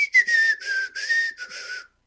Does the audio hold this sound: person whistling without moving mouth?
yes